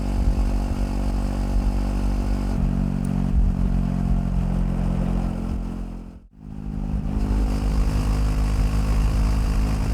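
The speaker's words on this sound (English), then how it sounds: "If anyone's wondering if the Royal Enfield Himalayan 450 will do 80 plus miles an hour on the freeway fully loaded down" A fully loaded Royal Enfield Himalayan 450 motorcycle cruising on a freeway at around 80 mph, its steady engine drone and heavy wind roar continuous and loud, with a brief dip in the noise near the middle.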